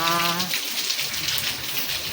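Rain pours down in a steady, close, even hiss of drops on surfaces, with a brief tonal sound at the very start.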